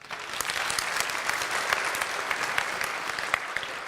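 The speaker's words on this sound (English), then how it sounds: "Round of applause." An audience at a children's programme gives a round of dense, steady applause, with many hands clapping together and occasional sharper claps standing out.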